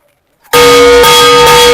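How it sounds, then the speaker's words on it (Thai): A single loud bell strike rings out close by after a brief silence, its bright metallic tone sustaining and shimmering. "ดูระฆังตรงนี้นะครั"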